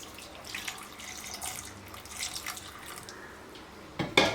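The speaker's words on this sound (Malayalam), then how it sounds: "ഇതിലേക്ക് നമുക്ക് പരിപ്പ് വേവാൻ ആവശ്യമായിട്ടുള്ള വെള്ളം ഒഴിക്കാം" Water pours into a pressure cooker holding lentils for sambar, a continuous splashing trickle that ends in a louder burst of gushing water, close up, with no talk.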